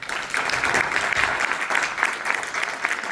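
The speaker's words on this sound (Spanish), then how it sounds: "Damos un fuerte aplauso a Andrés" A crowd at a cybersecurity event claps for a speaker, a steady dense burst of applause that stays loud throughout.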